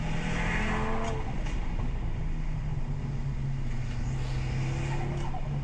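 A sports car engine revs during a street race between an Audi RS3 and a BMW M4, a loud, continuous roar with rising and falling throttle over roughly six seconds, steady and unbroken with no talking.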